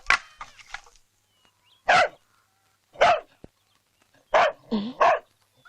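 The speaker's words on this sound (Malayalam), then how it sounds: "പട്ടി ഇത്ര കുരയ്ക്കത്തില്ലല്ലോ" A dog barks loudly and close by, a quick cluster of yaps followed by several single sharp barks spaced apart by short silences.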